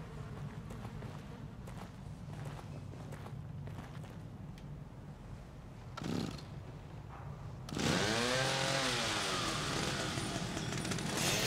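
A chainsaw in the horror video game The Evil Within kicks in abruptly after a quieter stretch with scattered clicks and a brief burst, then runs loud and steady to the end, with no talking.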